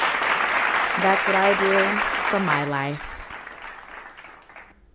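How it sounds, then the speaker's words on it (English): Applause for a public defender from Brooklyn rolls steadily as a studio group claps together, with talk over it before the clapping tapers and fades out. "Wow, round of applause."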